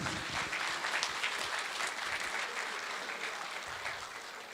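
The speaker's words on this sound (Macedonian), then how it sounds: "Еден голем аплауз." Continuous clapping from a concert audience at a folk cultural society's annual show, a dense, even wash of applause, moderately distant and slowly tapering, with no speech over it.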